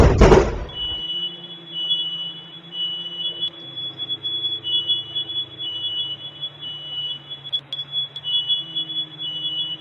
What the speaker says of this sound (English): Immediately after the lightning strike, the fire alarm activated straight away.